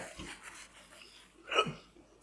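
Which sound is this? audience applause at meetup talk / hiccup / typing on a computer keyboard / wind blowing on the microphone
hiccup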